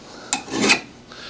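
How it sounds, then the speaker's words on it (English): A mill bastard hand file rasps across a metal bevel, removing chips from the edge, in one or two close, harsh strokes followed by a fainter scrape, with no talk. "taking a file and maintaining this bevel"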